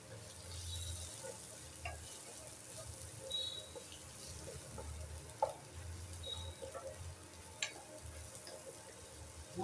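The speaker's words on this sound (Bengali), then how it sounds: "মশলা সব ভাজা হয়ে গেছে" Spices sizzle quietly in a little oil in a home kitchen pan, with faint crackles and occasional clinks from stirring over a low, steady hiss.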